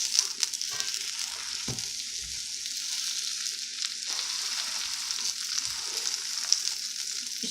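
A folded egg and cheese pita fries in a pan, giving a steady soft sizzle with occasional scraping and stirring noises close by.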